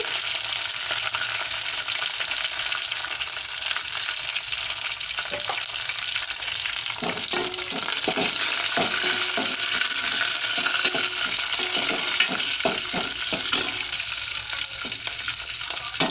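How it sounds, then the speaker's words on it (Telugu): Hot oil sizzles and pops steadily as mustard seeds crackle, with sharp crackling bursts clustering in the middle, close and fairly loud, no talking. "చూడండి, ఆవాలు చిటపట్లాడుతున్నాయి"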